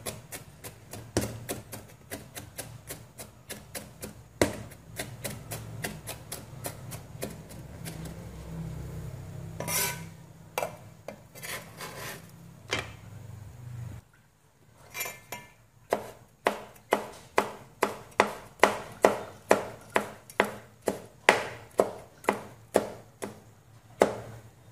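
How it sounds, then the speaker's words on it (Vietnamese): A knife mincing shallots on a cutting board makes rapid, regular chops. A quieter stretch sits in the middle, and then a louder run of crisp, evenly spaced strikes follows, close and with no talk. "Hành thơm mình cũng băm nhỏ ra."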